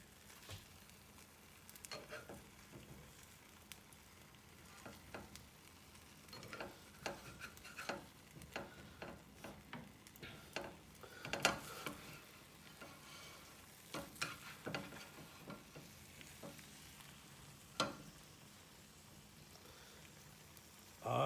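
An Italian omelette sizzles softly in a pan while a spatula moves it, with steady frying crackle broken by scattered scrapes and taps against the pan.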